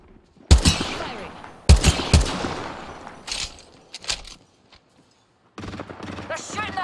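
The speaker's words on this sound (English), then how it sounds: "They're shooting at me." Bursts of automatic gunfire in the Apex Legends battle royale game, two loud volleys followed by scattered shorter shots, with players shouting over the exchange.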